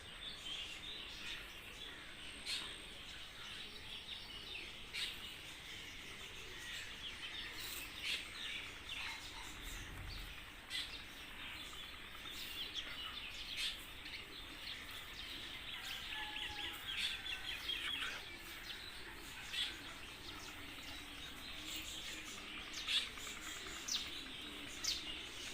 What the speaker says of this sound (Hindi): चिड़ियाँ गुजर रही हैं